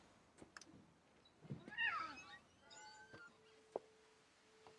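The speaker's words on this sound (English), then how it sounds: "Kitty? Oh my god!" A cat meows several times in the video game What Remains of Edith Finch, fairly quiet and alone, with soft rustling between the cries.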